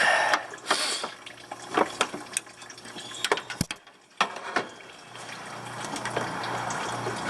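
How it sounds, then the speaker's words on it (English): Prying the radiator bottom hose off a 2005 Toyota Tacoma 2.7 L with a persuader tool: scattered metallic clanks and scrapes, then a steady rush of draining coolant in the final seconds. "we'll be going after that bottom hose with his persuader tool"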